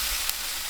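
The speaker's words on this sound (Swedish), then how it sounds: "steker lök och vitlök" Onion and garlic fry in a pan, a steady close hiss of sizzling with no talk over it.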